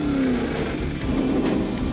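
A Ford Boss 429 Mustang, a limited-production muscle car with a race-designed engine, roars steadily with a continuous loud engine drone and a rising then falling whine, close and sustained throughout.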